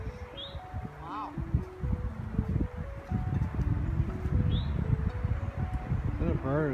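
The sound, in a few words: bird whistling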